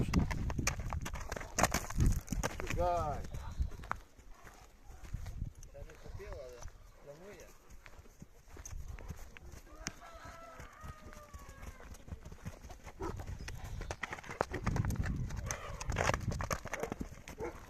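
A draft mare's hooves clip-clop in a steady rhythm with people talking over them, and a few soft animal snorts now and then.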